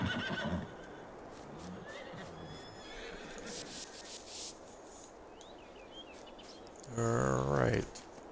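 A horse in Farming Simulator 22 gives a loud, close whinny near the end, its pitch wavering in a descending neigh, after quieter game ambience with faint birdsong and scattered rustling.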